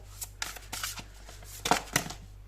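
A deck of tarot cards shuffled by hand, a series of quick, close riffling flicks and soft slaps arriving in irregular bursts, crisp and fairly quiet, with no talk.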